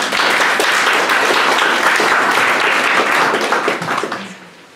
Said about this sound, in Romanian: Trebuie să-l aplaudăm.